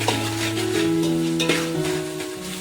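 Tomatoes are stirred as they fry in a pan for chana pulao, a continuous close sizzle with a scraping spoon and some sustained tonal scraping against the pan, with no talk.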